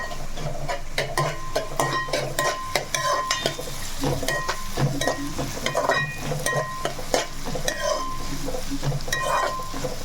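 Onions for a simple chicken curry sizzle steadily in a hot pan while a spoon stirs them, giving frequent metallic scrapes and taps over a constant close frying hiss.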